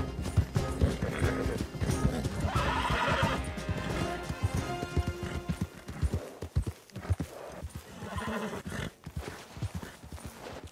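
A horse in Red Dead Redemption 2 Online gallops with rhythmic, close clip-clop hoofbeats and lets out loud neighs and whinnies over the running.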